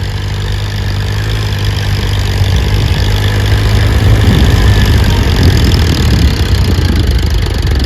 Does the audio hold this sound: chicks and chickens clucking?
no